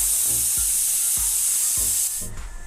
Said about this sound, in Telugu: 1 విజిల్ వచ్చింది. స్టవ్ ఆఫ్ చేసేద్దాము.